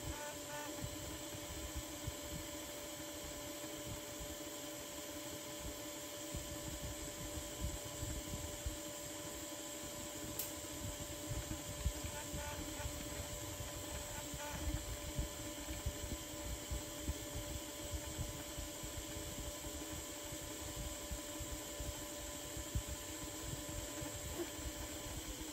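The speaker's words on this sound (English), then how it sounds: "Since this print is running at the machine's top speed of 500 millimeters per second," Steady mechanical whirring with faint high tonal whines runs throughout, an AnkerMake M5C 3D printer working at 500 mm/s with fans humming continuously at moderate level.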